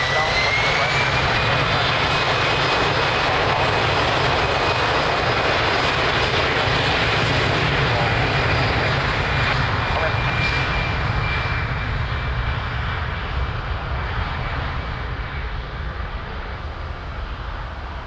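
Jet airliner engines roar during takeoff at Lisbon Airport, a loud sustained thunder with a rising whine that slowly fades as the plane climbs away.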